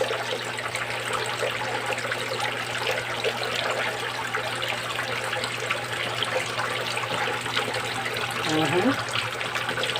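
Water pouring steadily into a catfish pond while a pump runs, a continuous close rushing and trickling wash with a low steady hum underneath; people talk briefly over it.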